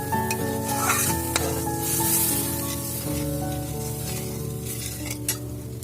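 Water poured into cooked-down masala for a jackfruit kofta curry sets off a loud, steady sizzle in the pan, with a sustained tonal backdrop running underneath.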